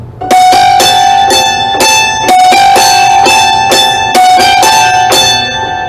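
Hammered dulcimer strikes ring out in a quick repeating tune, a steady run of bright metallic notes with long overlapping sustain, close and loud with no voices.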